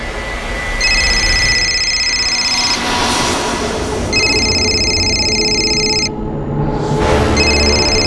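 A telephone rings loudly in repeated electronic bursts, each lasting a couple of seconds with short gaps between, over steady background noise in a television crime drama scene.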